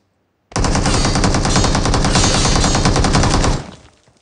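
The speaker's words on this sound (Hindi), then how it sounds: "तभी एक बंदा मेरे पे फायरिंग करता है" Sustained automatic gunfire aimed at the player in a mobile shooter game played on an iPad 9, a loud continuous rattling burst lasting about three seconds before cutting off, with no talking.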